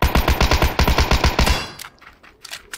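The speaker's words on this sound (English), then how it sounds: "was able to get a bunch of Tommy gun shots up on him" A loud, rapid burst of Tommy gun fire in a shooter game, with about a dozen close shots in quick rhythm, then a quieter tail of faint distant clatter.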